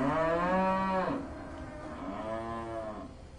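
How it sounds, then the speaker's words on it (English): Cows at a livestock show give two loud, drawn-out moos close by, the first long and strong, the second slightly softer after a short pause, over a faint background murmur. "they are mooing so loud"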